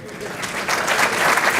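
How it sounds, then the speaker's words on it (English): Applause from an awards ceremony audience, a steady crowd clapping that swells louder partway through and holds without pause. "cue the clapping"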